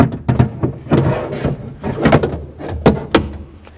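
A window regulator is worked out of the door of a 2002-08 Dodge Ram 1500, giving a series of close, irregular metallic clunks, knocks and rattles with brief scraping between them and no talking.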